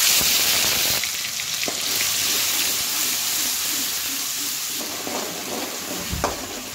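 Mustard seeds and ginger-garlic paste fry in hot oil, making a loud steady sizzle and hiss with occasional stirring scrapes, close up and continuous with no talk.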